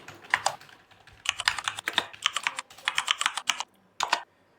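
Rapid keystrokes on a computer keyboard while entering a tax invoice in an Excel spreadsheet, in close-up bursts of clicks separated by short pauses, with no voice.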